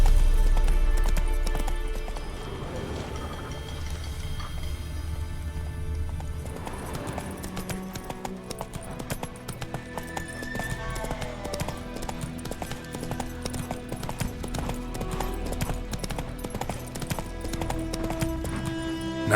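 Hooves of the horse Roach galloping in a video game, rapid rhythmic clip-clop close up and continuous, layered over a low steady background bed with no speech.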